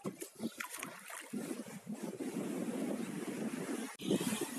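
Steady broadband rush of sea waves at a Bulgarian beach resort, continuous and moderately loud with wind on the microphone, a brief dropout near the end, and faint voices at the start.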